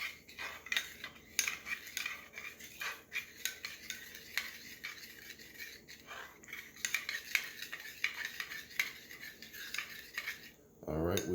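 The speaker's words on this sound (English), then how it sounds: "we want to mix this until brown sugar is dissolved pretty good" A spoon stirring soy-based sushi dipping sauce in a bowl to dissolve brown sugar, quick clinking and scraping taps in an irregular rhythm, fairly close and quiet.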